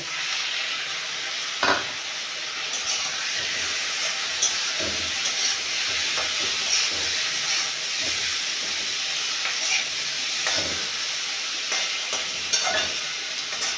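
Fish sizzles in a pan with onions fried until brown, a constant close hiss and crackle broken by a few sharp stirring scrapes and clatters, with no voices.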